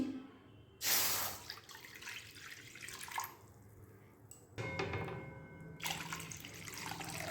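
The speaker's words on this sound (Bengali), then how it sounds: "কড়ার মধ্যে দু কাপ জল দেবো আমি" Two cups of water poured into a wok for boiling mangoes, in two splashing bursts with quieter trickling and dripping between them.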